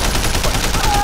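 A quick burst of rapid gunfire crackles loudly during a boat shootout in the video game Sleeping Dogs, filling the short moment with dense overlapping shots.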